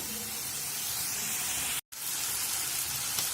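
Small chicken pieces sauté in a pan for chicken shawarma, making a steady, loud, close hissing sizzle that cuts out for a moment near the middle before resuming.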